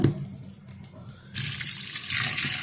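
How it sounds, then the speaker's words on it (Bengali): A faucet opens partway through and runs in a steady, bright stream of tap water to change the soaking water for fish, following a few quiet knocks and handling noises. "মাছের পানিটা আমি চেঞ্জ করব"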